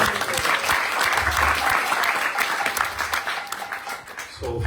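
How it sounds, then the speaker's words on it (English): An audience at a Saturday Love Feast gathering applauds in a dense, continuous wash of many hands clapping, steady and fairly close, tapering slightly at the end. "So from that applause, I would assume that very quickly that 1/3 amount will be paid off as well."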